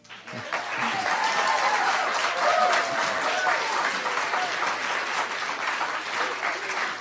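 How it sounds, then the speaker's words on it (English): A full audience applauds a speaker on stage, thick sustained clapping that swells in quickly and stays loud and even for around seven seconds, with no voices over it. "you just had an entire audience of people applaud you on this subject"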